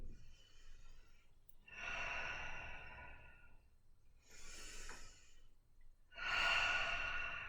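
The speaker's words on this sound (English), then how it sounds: "exhale. Nice and slow and mindful" Slow, mindful breaths in a qigong stress-release session, airy inhales and long sighing exhales in three close, unhurried swells with quiet pauses between.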